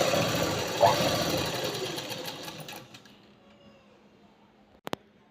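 A sewing machine runs steadily while stitching blouse cloth, a close mechanical whirr with rapid needle ticking that winds down and stops near the end, followed by a couple of sharp clicks.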